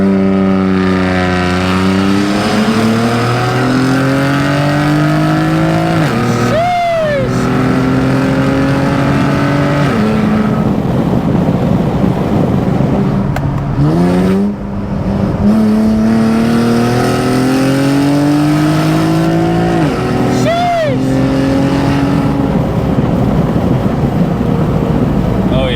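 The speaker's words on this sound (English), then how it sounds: "I'm gonna insert a clip right now of what it sounded like when I did a pull on the way here." A tuned Infiniti Q60 fitted with Z1 turbos accelerates hard through the gears, its engine note climbing in loud sweeping pulls, dropping at each shift and rising again, heard from inside the car.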